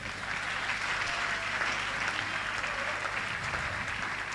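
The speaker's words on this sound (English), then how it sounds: "Come give another round of applause." A church congregation at a New Testament Church of God national convention gives a round of applause, continuous even clapping filling the hall at a steady level throughout.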